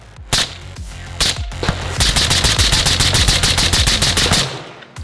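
AR rifle with an accurized match trigger fired close by, a few separate shots first and then a fast, evenly spaced string of loud cracks that ends abruptly.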